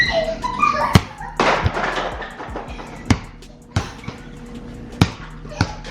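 A basketball bounces on hard ground, irregular sharp thumps a second or so apart, with people talking nearby during the first half.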